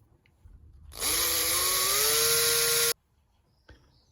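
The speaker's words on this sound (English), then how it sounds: "The first step in this process is to take this bottom cover plate off. It is held together or held on by 8 small screws." A power driver removing the small screws from the bottom cover plate of a Bachmann Large Scale 4-4-0/2-6-0 model locomotive. One loud, steady motorized whir runs for about two seconds, close up, between quiet pauses.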